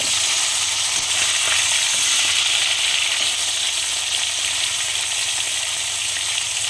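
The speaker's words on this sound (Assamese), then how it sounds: "ফ্ৰাই কৰিম এতিয়া অলপ ৰঙচীয়াকৈ। এতিয়া মই উল্টাই দিম।" Local mirika fish sizzle loudly in hot oil in a pan, a dense, steady crackle and hiss that stays close and unbroken throughout.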